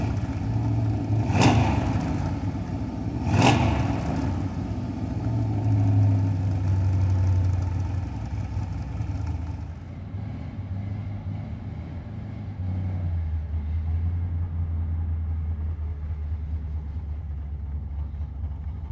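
A 1980 Chevrolet Corvette C3 engine runs steadily at a low idle, with two sharp clicks early on and a smooth, even rumble throughout with no talking.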